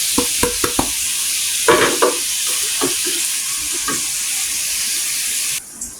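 A spoon stirs hog plum pickle with spices in a hot pan, scraping and knocking in uneven strokes over a steady sizzle, heard close.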